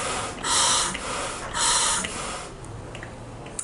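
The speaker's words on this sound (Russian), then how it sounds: "Открываем баллон и дышим из вторых ступеней. Делаем по 3-4 вдоха, оценивая легкость дыхания." Breathing through scuba regulator second stages on a freshly assembled diving regulator, a few close breaths heard as two strong hissing inhalations followed by quieter exhaled airflow, with no talking.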